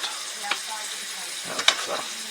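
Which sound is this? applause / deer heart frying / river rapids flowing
deer heart frying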